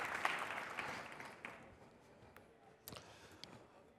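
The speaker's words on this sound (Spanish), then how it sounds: "Démosle un fuerte aplauso." A conference audience at AWS Summit Madrid 2019 claps, heard faintly and at a distance, fading over a few seconds into scattered last claps.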